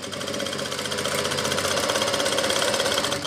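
Sewing machine stitching a gents kurta, a steady fast mechanical whirr running continuously at close range with no talking.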